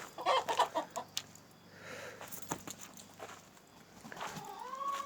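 Chickens cluck and chatter softly nearby in short bursts, with faint background noise and a brief rustle between calls, outdoors in snow.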